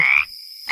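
Two bursts of cartoon frog croaking, a harsh buzzy call at the start and again at the end with a short quiet gap between, fairly close and loud.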